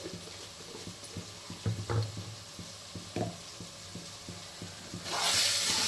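Chicken pieces frying with turmeric powder in a pan, a steady close sizzle with stirring scrapes and a louder hiss near the end.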